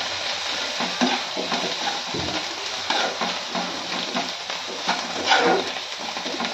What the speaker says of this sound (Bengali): এটা হচ্ছে লাউয়ের খোসা ভাজা